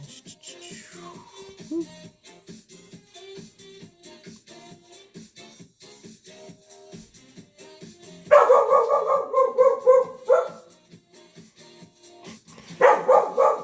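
A pet dog barks indoors in rapid bursts, loud and close, with quieter stretches of faint room noise and soft background sounds before the barking starts.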